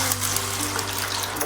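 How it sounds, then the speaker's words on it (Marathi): A cup of water is poured into a hot dhokla tempering of oil and spices, a close, steady, bright gush and sizzle that runs unbroken with no talking. "आता यामध्ये आपल्याला मेजरिंग कपने 1 कप मी पाणी घेतलेलं आहे ते टाकायचं आहे."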